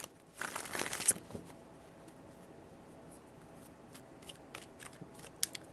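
A deck of tarot cards is shuffled in a quick riffling burst near the start, followed by sparse light card taps and handling, close and fairly quiet.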